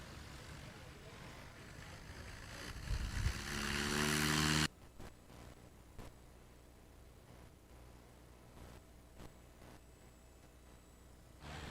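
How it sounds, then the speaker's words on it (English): A PA-17 Piper Vagabond light airplane takes off at the Sun 'n Fun fly-in. The propeller engine builds to a loud, rising roar over about four seconds and then cuts off abruptly to a faint, distant hum. "Here comes Amir Bayani in the PA-17 Piper Vagabond."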